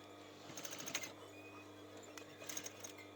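A sewing machine top-stitches a knit neckband along its overlocked seam on a baseball top, running in two short bursts of quick, rattling stitches separated by a quiet pause.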